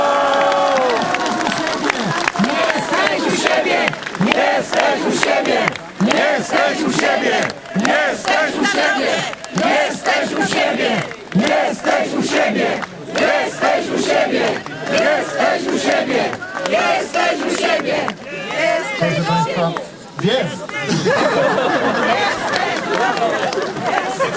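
A large outdoor crowd in Tarnów, Poland, greeting President Andrzej Duda, cheers and chants continuously and loudly, with rhythmic shouting and dense babble rising and falling across the whole stretch.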